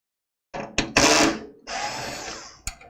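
A power screwdriver backs out screws holding a 5 1/4 inch drive bay in a retro 1980s-style PC case, giving several short whirring bursts separated by brief pauses, close and fairly loud.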